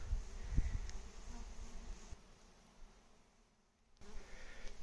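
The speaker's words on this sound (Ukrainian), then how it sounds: "Пасіка в роботі, все працює, бджілки трудяться." Honeybees buzz at a working apiary beside a sunflower field, a soft steady hum broken by a few louder low thumps early on, fading near the end before returning.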